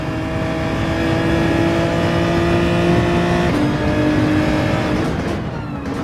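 A Porsche race car engine in Gran Turismo 7 drones loud and steady at high revs, dropping briefly in pitch as it shifts gear before pulling on again.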